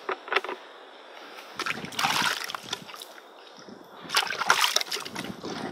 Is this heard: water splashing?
yes